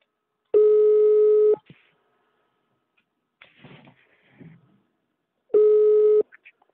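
Telephone call tones come through a live TV broadcast line, two loud steady beeps about five seconds apart, with faint rustling between them.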